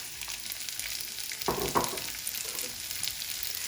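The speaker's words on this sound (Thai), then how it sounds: "ใส่น้ำมันลงไปอีกนิดนึง แล้วก็ตามด้วยหอมเลยนะคะ" Shallots frying in a thin layer of oil give a steady, close crackling sizzle throughout, with a couple of brief sharper spatters midway.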